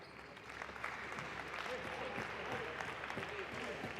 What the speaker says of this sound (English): Navarro getting a round of applause, the crowd appreciating this at the La Fonteta